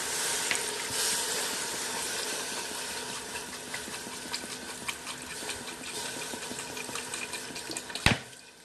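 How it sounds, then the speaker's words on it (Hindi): Water pours into a pot of frying chicken for yakhni, a steady rushing splash with sizzle underneath, ending in a short sharp clunk near the close. "थोड़ा सा इसको जरा सा फ्राई करने के बाद इसके अंदर मैं ये पानी डाल दूंगा"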